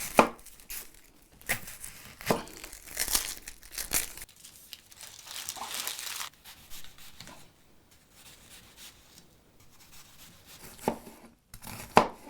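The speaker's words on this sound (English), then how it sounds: "let's go ahead and get started on chopping up that onion" An onion being chopped on a board, with irregular knife taps mixed with crinkly rustling of the papery skin, steady and close for several seconds with no talk.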